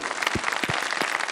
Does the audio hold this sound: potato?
no